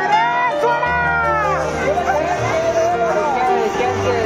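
Dense crowd of pilgrims thronging Saptashrungi temple near Nashik, a loud continuous babble of many voices close around, with a child crying and people speaking over it.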